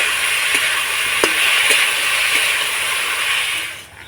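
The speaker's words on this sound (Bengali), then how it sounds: "এবার নাড়াচাড়া করে আলুটাকে ভেজে নেব" Grated potatoes frying with salt and turmeric in hot oil, a loud constant sizzle with a few light clinks of the spatula as they are stirred, fading slightly at the end.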